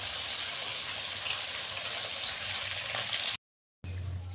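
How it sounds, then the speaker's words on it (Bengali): Fish fries in hot oil in a kitchen pan, giving a steady, hissing sizzle throughout that cuts out for a moment near the end before returning. "মাছটা আমি সুন্দর করে ভেজে নিচ্ছি। লাল লাল করে মাছটা ভেজে নেব।"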